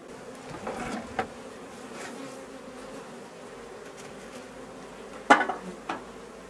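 Honeybees buzz around a populous hive colony during a summer honey harvest, a soft steady hum with a few closer, louder passes and faint clinks of handling near the end.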